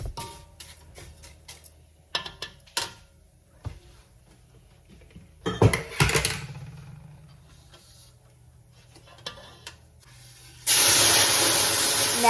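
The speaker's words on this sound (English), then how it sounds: "Now I'm adding the salsa" Blended salsa goes into toasted fideo pasta in a hot pan after some clinks and handling noises, then erupts into a loud, steady sizzling hiss at the close.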